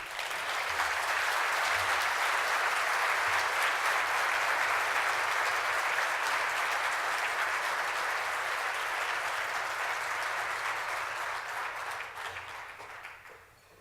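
Sustained, loud applause from a large audience welcoming Mayor Jim Lane at a 2015 State of the City address, steady for about twelve seconds before tapering off.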